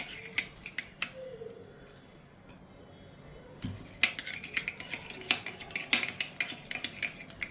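A spoon clinks and scrapes against a bowl while coconut fibre powder is mixed with coconut oil. Sharp metallic taps come in quick irregular bursts, with a quieter pause near the middle before the clinking resumes.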